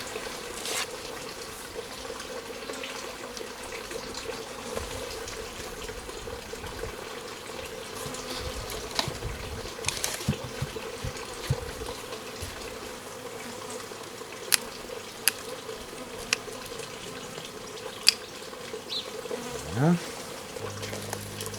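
A secondary honeybee swarm is tipped into a hive outdoors, a faint steady buzzing of bees running throughout with scattered knocks and handling sounds, and someone speaking briefly.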